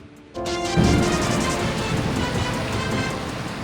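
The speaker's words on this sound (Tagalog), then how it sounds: "Biglang buhos ang malakas na ulan sa ilang bahagi ng Metro Manila" A sudden, loud, steady roar of a heavy rain downpour in Metro Manila begins after a brief quieter moment and continues without letup.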